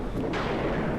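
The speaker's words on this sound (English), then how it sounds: "Oops, sorry about the thunder in your ears." Deep rolling thunder from a storm in the X-Plane 11 flight simulator, a loud continuous rumble with no voices.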